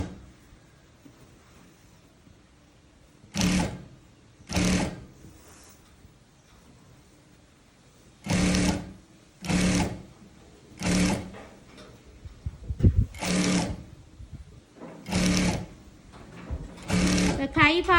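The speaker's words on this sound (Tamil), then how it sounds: "அந்த சென்டரையும் ஷோல்டர் 2ம் பொருந்தின இடத்தையும் இப்படியே சேர்த்து வச்சுட்டு 1/2 இன்ச்சில் ஃபுல்லாகவே தைக்க போகிறேன்." A sewing machine stitches a frock seam, joining the centre and matched shoulder pieces with a half-inch allowance, in about nine distinct whirring bursts of one to two seconds each, separated by quiet pauses with faint handling.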